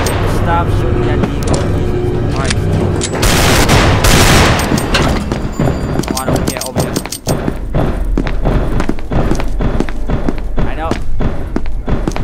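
Repeated gunfire in a multiplayer SCP: Containment Breach session: a steady run of sharp, closely spaced shots and thuds over several seconds, loud and distorted, with people talking over the shooting throughout.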